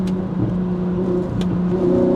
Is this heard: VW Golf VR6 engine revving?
yes